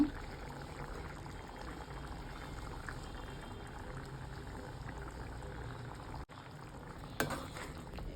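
Fresh cream poured into a pan of simmering palak paneer, giving a steady low bubbling and pouring wash that runs evenly throughout with a brief dip and a small clink near the end; no one speaks.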